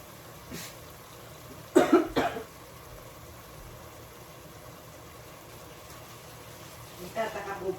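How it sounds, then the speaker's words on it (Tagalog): A person with asthma coughs a few times, with a short, harsh burst in the middle and another rougher one at the end, over a low, steady background hum. "Ako po ay ubo ng ubo."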